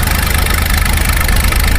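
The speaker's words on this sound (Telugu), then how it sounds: "ఈ ఆయిల్ ఇంజిన్ పెట్టి అక్కడి నుంచి ఇలా పైపుల ద్వారా విధంగా డీవాటరింగ్ చేస్తారండి" An oil engine driving a dewatering pump at a construction site runs loud and close, with a continuous low, throbbing drone and steady knocking pulses. Nobody speaks.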